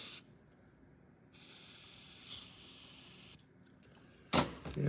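Lubricant sprayed onto a stuck exhaust part in two sustained hissing bursts of about a second and two seconds, then a louder short hiss at the end, close-up with no talking.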